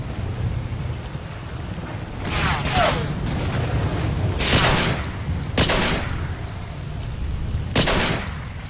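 Gunfire and grenade explosions in MISERY 2.0, several loud separate blasts and bursts landing a second or two apart over a low rumbling background, close and heavy, with no voices.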